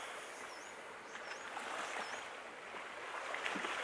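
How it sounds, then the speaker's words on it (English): Birds calling over the sea at Bradley's Head, with several short high chirps at a steady pace above a constant wash of water and lapping waves close by. "Birds, water."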